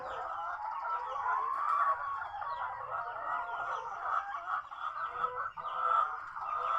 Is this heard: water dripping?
no